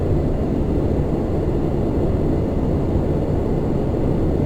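Engines of a Lockheed L1011 Tristar in the Prepar3D flight simulator, a steady low droning roar that holds level throughout, with no voices over it.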